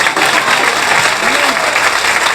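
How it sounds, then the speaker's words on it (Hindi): A church congregation claps loudly during a Christian sermon, dense continuous applause filling the room close by, with a voice faintly mixed in. "ताली में धन्यवाद करो परमेश्वर।"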